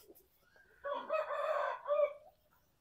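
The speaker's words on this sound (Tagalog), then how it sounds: "Pero malaki siya na manok." A large rooster crows once in a clear, fairly close cock-a-doodle-doo lasting over a second, rising and falling against a quiet farmyard background.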